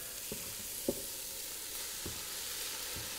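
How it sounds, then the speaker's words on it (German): Red cabbage tipped into a hot pot with duck, giving a steady soft sizzle with a few brief clunks and stirring knocks scattered through it, close by and alone. "Zwischenzeitlich nehme ich das Blaukraut und gebe das dazu in den Topf."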